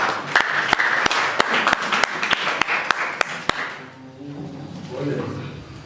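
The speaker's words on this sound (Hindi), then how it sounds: "जोरदार ताली हो जाए हमारे गुलशन भाई के लिए" An audience claps in a sharp, evenly spaced run of loud hand claps, about a dozen in all, welcoming a speaker to the stage, with talk alongside before the clapping stops and speech continues.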